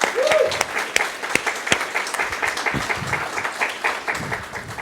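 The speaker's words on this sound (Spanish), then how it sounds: "es un aplauso para él" Audience applause at a gathering on constitutional reforms, dense steady clapping from a crowd that holds throughout, fairly loud and close, with scattered sharper individual claps standing out.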